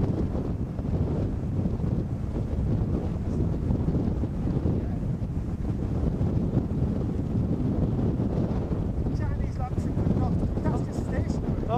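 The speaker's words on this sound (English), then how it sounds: "if I move, I'm rocking about in wind" Wind buffets the microphone outdoors on open high ground, a steady low rumble that fills the whole stretch with faint ripples near the end.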